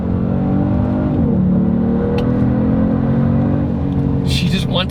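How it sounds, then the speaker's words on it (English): A 2022 Genesis G70 turbo engine accelerates, its tone rising in pitch partway through as the revs build, then holding a strong, smooth roar heard from close by. "The turbos spool up so quick"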